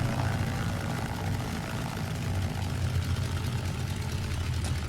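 A DHC-2 Beaver propeller aircraft on the ground after taxi on a hot 30-degree day, its radial engine running with a steady, loud, low droning rumble that holds level throughout, with no talk over it.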